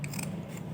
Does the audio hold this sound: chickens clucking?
no